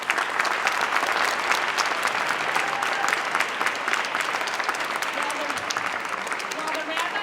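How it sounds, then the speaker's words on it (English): Audience applause at a community meeting, steady dense clapping from a sizable crowd heard continuously and fairly close throughout, with no speech over it. "I'd like to ask you once more to boost them up by joining me in a round of applause."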